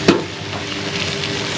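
White onions frying in a pan, a steady, loud, close sizzle with a brief stirring clatter at the start.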